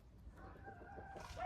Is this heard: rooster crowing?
yes